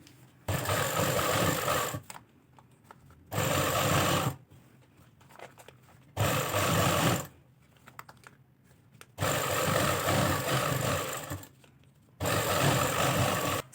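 A sewing machine stitches along a trouser hem in four bursts of rapid, steady whirring, each lasting a couple of seconds and separated by quiet pauses while the fabric is repositioned.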